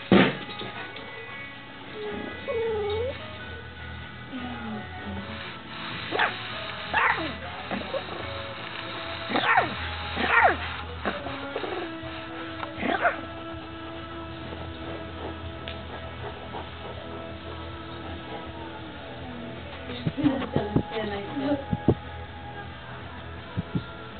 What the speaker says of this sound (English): Let him bark.